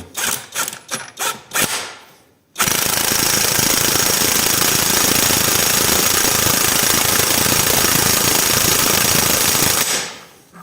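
A DEVETECH cordless impact wrench on first speed tightens a nut: a few short stuttering bursts give way to a loud, continuous rapid hammering rattle lasting about eight seconds before it stops abruptly.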